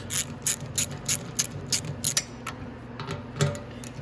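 A ratchet with a 10 mm socket loosens the gas tank bolts on a Venom X18 automatic motorcycle, giving steady rapid clicking in short even bursts close up, with a few quieter pawl ticks toward the end.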